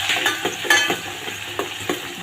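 Cumin, mustard seeds and onion fry in hot oil with a bright, constant sizzle, punctuated by quick scraping stirs every few tenths of a second, close up and without talk.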